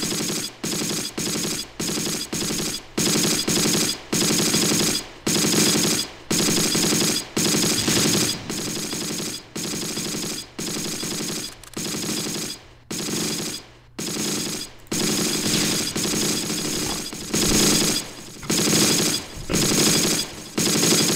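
Rapid bursts of gunfire in the Close Combat: Last Stand Arnhem war game, shots fired at a house in a Dutch village during an Irish Guards assault, loud and repeated in staccato volleys with brief gaps, no talking.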